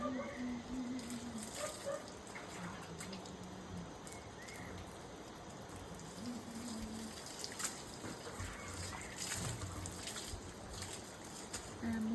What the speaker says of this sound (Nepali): अब चाहिँ पानी हाल्नुपर्छ